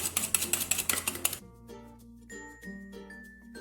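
Egg mixture with salt beaten in a bowl for a pressure cooker cake, fast rhythmic whisk clinks against the bowl for over a second, then stopping into a quiet room with faint ringing tones.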